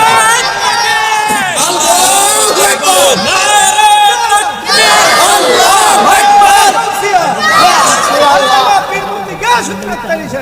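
Crowd of young men at a Ramadan religious sermon in Bangladesh chanting a slogan together, loud massed voices rising and falling in waves throughout, close and dense with overlapping shouts.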